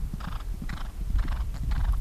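Horse galloping on a cross-country eventing course, a steady rhythmic clip-clop of hoofbeats heard up close over outdoor background noise.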